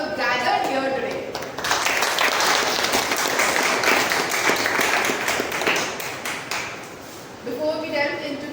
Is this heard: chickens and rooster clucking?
no